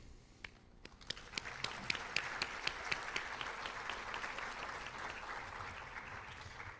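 An audience at a high school senior awards ceremony applauds the graduating seniors: quiet, distant clapping that builds from scattered claps into a steady, even wash of applause.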